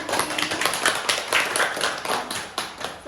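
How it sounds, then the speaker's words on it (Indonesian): Small group clapping for a participant in a group therapy session, a dense patter of claps over about three seconds with a few louder individual hits, fairly close and without talk. "boleh kasih tepuk tangan untuk Ibu Putri"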